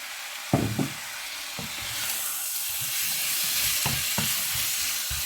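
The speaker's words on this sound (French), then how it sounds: "si on voit que c'est un peu sec, hop, on rajoute un petit peu d'huile d'olive" Chicken with spices fries in olive oil for pastilla, a constant hiss and sizzle broken by a few thuds and scrapes of stirring against the pan, with no one talking.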